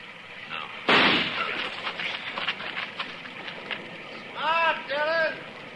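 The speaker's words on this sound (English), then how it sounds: "I'm going to flip a shot at the tree, Chester." A single sharp gunshot, fired at a tree as a 1952 Gunsmoke radio drama sound effect, cracks loudly near the start. Voices talk before and after it.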